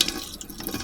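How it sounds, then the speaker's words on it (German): Water splashes from a manually operated tap fed by a foot pump and a 60-litre canister in a small self-built tiny house, with short uneven gushes and trickles close by. "wir haben jetzt zwar so einen ganz normalen Wasserhahn, der allerdings manuell betrieben wird"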